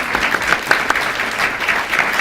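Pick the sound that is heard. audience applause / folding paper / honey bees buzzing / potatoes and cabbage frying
audience applause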